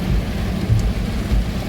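Heavy rain pours down during flooding on a road, a loud, dense, steady roar close by with low rumbling underneath and no voices.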